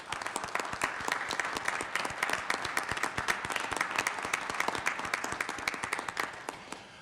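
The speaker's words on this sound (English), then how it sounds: "can we give these gentlemen a round of applause" Applause at a city council meeting as the room claps for two honored gentlemen, a steady patter of many individual hand claps lasting several seconds, fairly distant and even, with no talking over it.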